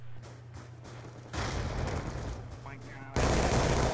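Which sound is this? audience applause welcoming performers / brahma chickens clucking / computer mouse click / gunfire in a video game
gunfire in a video game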